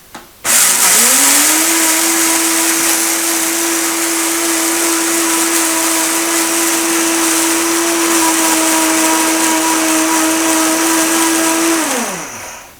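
A loud Vitamix blender whirs steadily at high speed for about twelve seconds, then winds down and stops.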